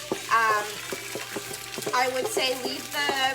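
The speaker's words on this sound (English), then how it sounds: "And now we're going to add our rice." Cooked, cooled rice for an Asian-style fried rice is stirred in a hot pan, with repeated scraping strokes over a light sizzle, close up and moderately loud, with no talking.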